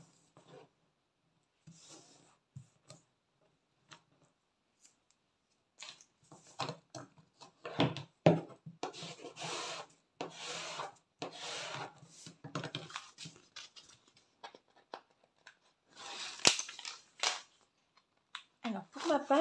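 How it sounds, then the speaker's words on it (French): Adhesive tape is drawn off the roll and pressed along a cardboard structure for a vintage scrapbooking mini-album, making intermittent rasping, rubbing bursts close by with quiet pauses between. "Je vais venir mettre du scotch tout au long."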